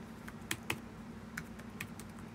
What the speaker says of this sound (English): Yeah, see, this is a nice keyboard too.